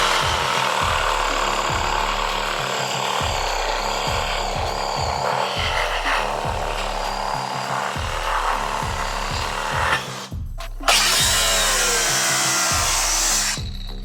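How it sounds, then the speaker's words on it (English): A reciprocating saw cuts through an aluminum transmission bellhousing on a buggy, rasping in a steady fast back-and-forth rhythm, close and loud, with a brief stop and restart near the end. "I'm gonna try the Sawzall now"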